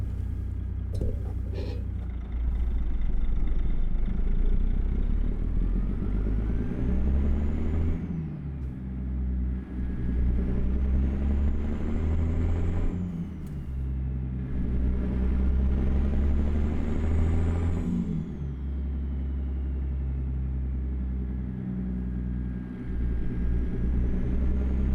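A CT Modding flat-glass Kenworth W900 truck in American Truck Simulator drives with a deep, loud diesel drone, climbing through gears with repeated rises and drops in pitch and hiss at shifts, close in-cab, with no talk.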